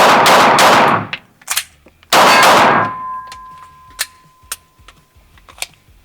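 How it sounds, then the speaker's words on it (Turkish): 9mm pistol dry-fire defensive shooting practice with snap caps, two loud bursts of rapid metallic clatter followed by a scattered series of sharp, isolated clicks and clanks with a faint ringing tone, close and alone. "Atış antrenmanı yapıyorum. Savunma atışı. Atışa başlıyorum."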